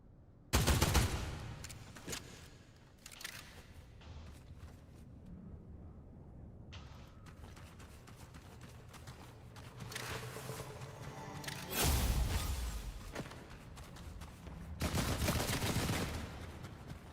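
Bursts of automatic gunfire in a video game, with loud volleys near the start and again later, set against a quieter game soundscape and occasional mechanical noises.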